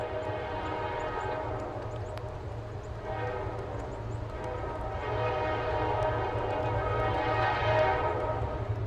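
Reading & Northern EMD diesel freight locomotives rumble past in eastern Pennsylvania, a deep steady engine drone with a faint horn tone above it, swelling slightly louder toward the end.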